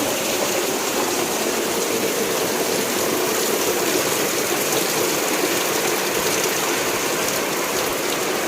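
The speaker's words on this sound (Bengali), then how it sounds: "কি করে বৃষ্টি হচ্ছে দেখো, বাবা বাড়ি এসে গেছি আর সাথে সাথে বৃষ্টি, বিশাল বিশাল বৃষ্টি হচ্ছে।" Heavy rain roars in a constant, dense hiss, unbroken and loud throughout, with no voices.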